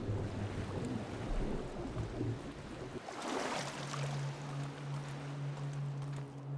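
Water sloshing and washing as a character climbs out of water in the dungeon game Grimrock 2, a steady rushing churn with a swell of splashing midway and a low drone underneath.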